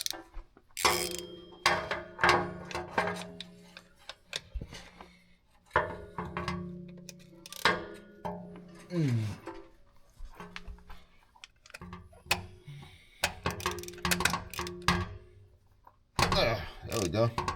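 Irregular metallic clicks and ratcheting come from a ratchet loosening the old shifter linkage under a Monte Carlo during an LS swap, with scattered knocks and tool handling between the bursts.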